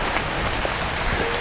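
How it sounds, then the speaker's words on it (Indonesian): Steady rain falling in the Gunung Leuser rainforest, a dense, even hiss of drops pattering on leaves, with no voices. "Hujan-hujan di dalam hutan."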